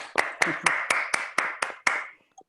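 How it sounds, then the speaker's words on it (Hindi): About seven sharp, evenly spaced hand claps sound close and loud, welcoming a session, before they stop. "जोरदार तालियों के साथ निशा के इस सेशन का हम स्वागत करते हैं।"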